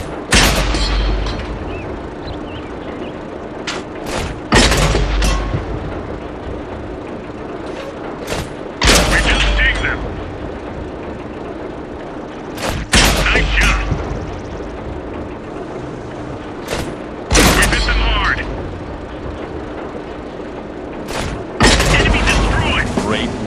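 Heavy tank cannon shots in a tank combat video game, five loud booming blasts spaced roughly four seconds apart, each with a sharp crack and rumbling tail, over a steady engine drone.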